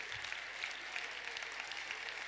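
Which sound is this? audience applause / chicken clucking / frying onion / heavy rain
audience applause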